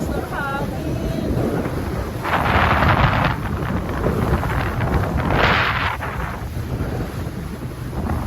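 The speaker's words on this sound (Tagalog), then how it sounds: "Ang lamig, ang lakas ng hangin." Strong, cold wind gusts by a river buffet the microphone in a loud, continuous roar that surges twice, with rushing water faintly beneath.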